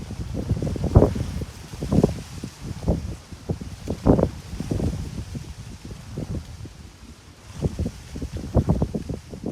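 Gusty wind buffets a microphone outdoors on a breezy day, with low rumbling bursts that rise and fall irregularly, loud and close, no voices.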